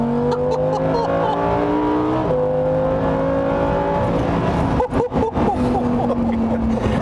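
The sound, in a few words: Lamborghini Huracán Performante driving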